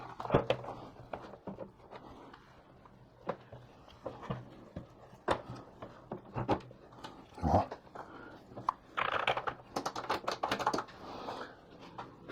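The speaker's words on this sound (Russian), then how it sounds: "Тест клавиатуры." Keys on an Atari XEGS computer keyboard under repair are pressed in an irregular run of sharp, close clicks and clacks, with bursts of quicker strokes toward the end and no voices.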